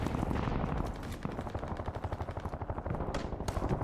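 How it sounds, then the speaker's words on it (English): Rapid, dense gunfire rattles without pause in the Warzone video game while a sniper shoots at the player; the shots are loud and close, with barely a break between cracks. "Oh, I'm being sniped from that block."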